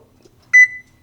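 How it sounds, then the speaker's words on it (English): A kitchen timer gives a single sharp electronic beep as it is set, a bright double-pulsed tone that trails off against near silence. "Usually like to set a 20-minute timer."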